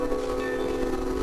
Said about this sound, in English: I actually heard the train whistle go off.